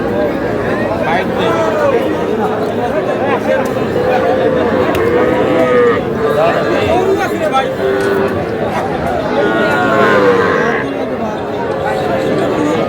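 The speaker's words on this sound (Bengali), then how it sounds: "ষাঁড় বাচ্চা।" Young bull calves, three to four months old, moo at a busy cattle market in Bogura, Bangladesh, their calls rising through a constant crowd of buyers and sellers talking and haggling.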